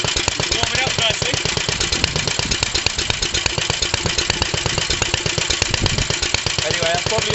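A 1945 Petter A type vintage stationary engine on its first run in thirty years, chugging loud and close with a steady rapid firing beat that holds even throughout.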